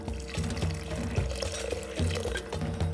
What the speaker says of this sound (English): So I'm going to top it up with some water.